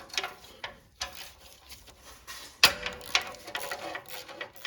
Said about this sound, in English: Get this 10mm head heat shield bolt out.